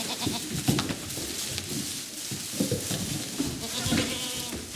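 Goats bleat repeatedly in a farm setting, several overlapping calls rising and falling close by over a steady outdoor background, with no talking.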